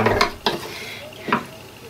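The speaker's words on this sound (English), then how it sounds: "Stir that in the sauce" Chicken being stirred into a sauce with a utensil in a pan, giving three brief scraping, clinking strokes spaced apart with a quieter wet stir between them.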